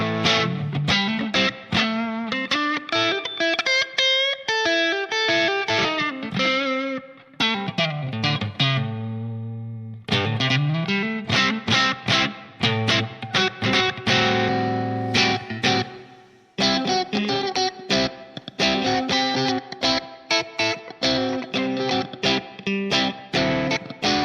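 An electric guitar is played through a Line 6 POD HD500 on the Plexi Lead 100 Brt model, modelled on a bright Marshall Super Lead 100, with the master at 50, giving a loud, continuous, overdriven riff of chords and notes.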